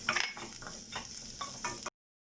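Ginger frying in a little oil in a pan, a close, crackling sizzle with short stirring scrapes that stops abruptly after about two seconds.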